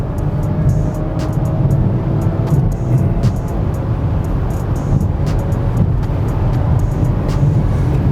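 A BMW X7 running a BOOTMOD3 stage 1 flash tune accelerates hard, its engine a steady broad roar heard from inside the cabin alongside road and wind noise, holding loud and constant throughout.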